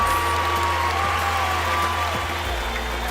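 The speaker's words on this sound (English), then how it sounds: "Please give them another big round of applause." An online seminar audience gives a round of applause for the guest speakers, a steady, even patter of clapping over a constant low hum, with no pauses.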